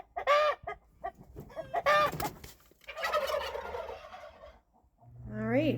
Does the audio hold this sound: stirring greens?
no